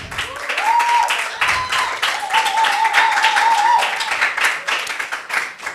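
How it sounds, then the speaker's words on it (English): An audience at an independence debate competition applauds the debate team, a dense burst of many hands clapping that holds steady for several seconds, then thins and tapers off, while a voice carries faintly beneath. "A round of applause for our excellent team."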